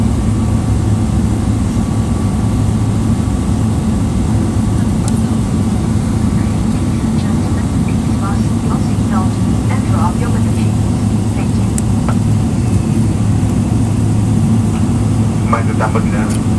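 Steady, loud engine roar of a Singapore Airlines Boeing 777-300ER on its takeoff roll at New York JFK, a continuous low rumble heard from inside the cabin, with faint background chatter.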